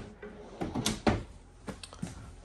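A deep drawer in a new 2023 Forest River Rockwood Signature 8337RL travel trailer slides and bumps shut, a short close wooden rumble with a couple of soft knocks, no voices.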